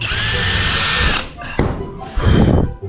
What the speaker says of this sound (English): just drilling my holes.